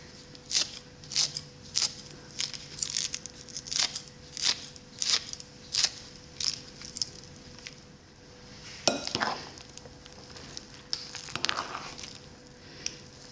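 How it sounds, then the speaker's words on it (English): Green onions being snipped into a cheeseball mixture in a bowl, a regular series of crisp cutting clicks close by, followed by a few duller scraping and mixing sounds. "And then it calls for 2 chopped green onions. I'm just gonna cut them in."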